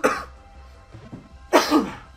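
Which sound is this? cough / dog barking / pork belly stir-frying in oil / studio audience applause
cough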